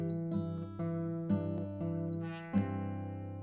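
Acoustic guitar fingerpicked with an alternating bass line, clear sustained plucked chords with a steady thumb-driven bass pulse, close and solo without any talking.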